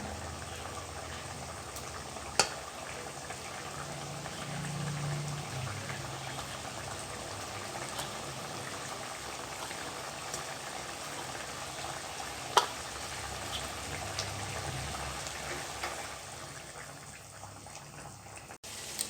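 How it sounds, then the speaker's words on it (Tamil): A thick dried-fish curry bubbles and simmers steadily in a pot, with soft gurgles and an occasional sharp click, no talking. "பாருங்கள், கொதிக்க ஆரம்பிச்சிடுச்சு."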